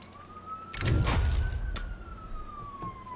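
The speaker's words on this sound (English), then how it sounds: "Hello, police siren." A police car siren wails as a steady, slightly wavering tone at moderate distance, with a loud burst of broadband traffic noise near the start and no talking.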